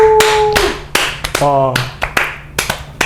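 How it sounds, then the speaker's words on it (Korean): A small studio audience claps in short scattered bursts, sharp individual hand claps spaced irregularly, with a voice exclaiming briefly and some tonal sounds partway through. "박수"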